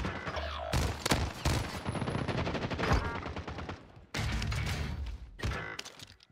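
Rapid automatic gunfire in a first-person shooter video game, loud dense bursts of shots with short gaps between volleys.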